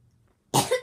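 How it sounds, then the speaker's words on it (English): A single close cough, sharp and loud, breaking out after near silence and trailing off with a second short burst. "I don't want to be coughing the entire video"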